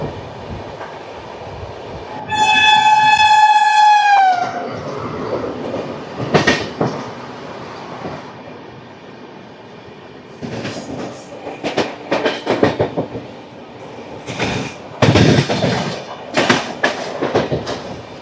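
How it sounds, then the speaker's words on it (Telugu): An express train on the Durg to Visakhapatnam run passes at close range: a loud horn blast is followed by steady rolling rumble and repeated rhythmic clatter of wheels over rail joints. "దుర్గ్ నుంచి విశాఖపట్నం వచ్చే ఎక్స్ప్రెస్ ఇది."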